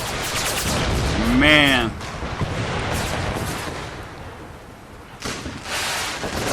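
Artillery fire in Empire: Total War, a set in an American Civil War campaign: a heavy rumbling barrage, then fading booms and scattered reports, while a man exclaims over it.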